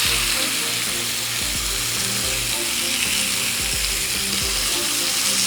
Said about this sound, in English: Just gonna get a good sear on that. Get the sides.